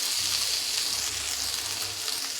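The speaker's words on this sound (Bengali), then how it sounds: "এই মাছটা আমার ভাজা হয়ে গেছে। এবার আমি তুলে নেব।" Murla fish frying in hot oil in a pan, a dense, steady crackling sizzle heard up close, unbroken throughout with no talk.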